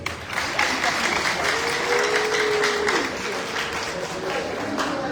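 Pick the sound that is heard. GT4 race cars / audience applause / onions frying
audience applause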